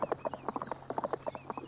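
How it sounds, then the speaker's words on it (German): Horses galloping along, hooves clip-clopping in a quick, steady rhythm of repeated clustered beats, close and clear with no voices over them, in an animated Asterix adventure. "Und die Freunde jagen auf ihren Pferden dahin."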